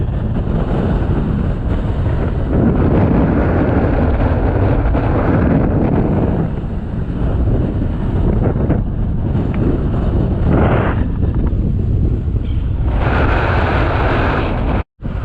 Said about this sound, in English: Woo, that wind!